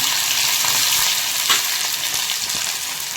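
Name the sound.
onion frying in oil for Bombay duck chutney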